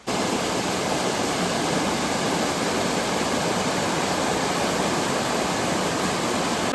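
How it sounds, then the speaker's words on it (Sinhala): Mountain stream rushing above the Miyunu Ella waterfall in Gawaragiriya, Sri Lanka, a loud, constant broadband roar of close flowing water with no voices. "මේ තියන්නේ දොලේ උඩහා පැත්ත"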